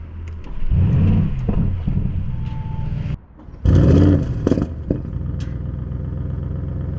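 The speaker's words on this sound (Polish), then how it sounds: "dłużej trzymać starter i wtedy auto przy starcie lekko nam podpierdzi" An Audi RS6 GT 4.0 V8 engine cranks and fires up, with a brief dip then a loud exhaust pop as it catches, settling into a steady idle rumble.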